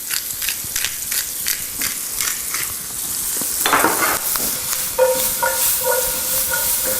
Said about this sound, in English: I'm going to give those a flip here in the olive oil, get them all loved up.